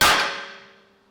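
One sharp metallic clang from a hammer striking the rear brake rotor of a 2019 Lexus RX350 to free it, loud and close, ringing and decaying over about a second.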